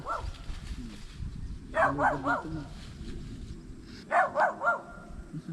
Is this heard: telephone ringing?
no